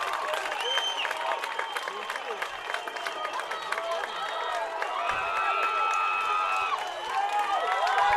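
A Billings baseball crowd at a regional championship game applauds and cheers as fans rise to their feet, a sustained, fairly distant roar of clapping and shouts running under an announcer's commentary.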